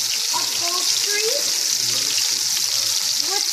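Chayote and carrots cooking in a pan of butter and water give a loud, constant sizzle and bubbling hiss that runs steadily throughout, with faint background voices beneath it.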